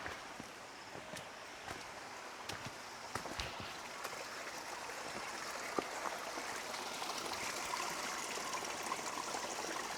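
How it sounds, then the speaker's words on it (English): Spring water flows and trickles steadily at one of the forty springs in Arba Minch, a continuous near stream sound with faint rustling and a few soft footsteps. "So this is the spring water."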